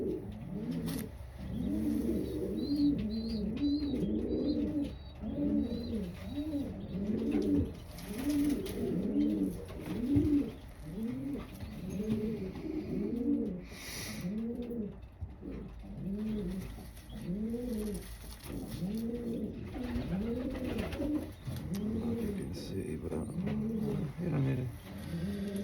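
Racing pigeons coo in a loft, a dense repeating chorus of low rolling coos close by, continuing steadily with a person speaking now and then over them.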